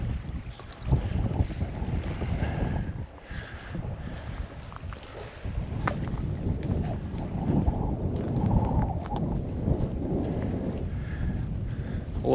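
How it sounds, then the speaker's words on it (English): Strong wind gusts along a lake shoreline in winter, a steady rumbling roar that buffets the microphone continuously with no break. "it is considerably windy"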